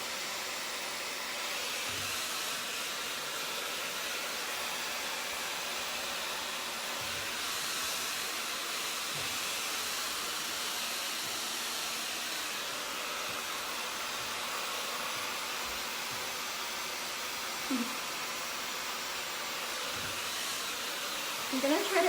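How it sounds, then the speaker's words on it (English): A hair dryer fitted with a diffuser blows on extra long curly hair, a steady, even whooshing drone held without a break for the whole stretch. "I'm gonna try to go a little faster than my normal diffusing"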